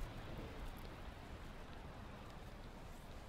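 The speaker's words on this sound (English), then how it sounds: "All the thundering in the background." Rainfall and a low background rumble of thunder in the Valheim video game, a continuous faint hiss of rain that stays steady throughout.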